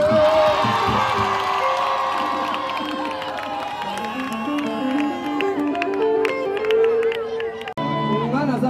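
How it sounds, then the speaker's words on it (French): A loud crowd cheers and whoops continuously, with shouting voices and a busy, excited roar throughout. "Alors sous vos acclamations, Esaïe Ndombe"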